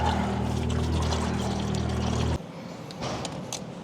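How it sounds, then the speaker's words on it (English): Engine oil drains from a Toyota 1KZ-TE engine in a steady pouring stream that cuts off abruptly partway through, leaving faint drips and trickles. "break loose your oil filler cap, and that's going to make the oil drain a little faster"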